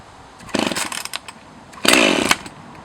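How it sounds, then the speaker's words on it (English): A Husqvarna 543 XPG chainsaw revs in two loud bursts, the first about a second long and the second a little longer, with a quieter idle between them and no talk. "Super good chainsaw. Starts easy."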